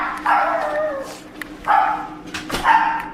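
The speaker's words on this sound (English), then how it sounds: "her dog could be heard in the background" A dog barks three times in an uneven rhythm, fairly close and clear, each bark drawn out with a slight whine, with no talk over it.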